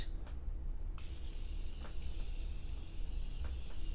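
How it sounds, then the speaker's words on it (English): Morphe Continuous Setting Mist hisses from the bottle onto a face in one long steady spray that starts about a second in and keeps going, close up. "So I am going to set my face with the Morphe Continuous Setting Mist."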